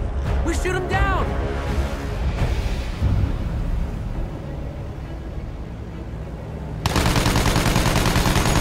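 Sustained machine gun fire aimed at a German aircraft in the Battlefield 1 video game, a loud, dense rattle running throughout, with voices shouting over it early on and a brighter burst near the end.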